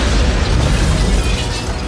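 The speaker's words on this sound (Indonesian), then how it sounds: "menyebabkan ruangan itu meledak dan membunuhnya" A loud, sustained roar of an explosion inside a room, a dense broadband boom with heavy low rumble that stays at full intensity for about two seconds, used as a film sound effect.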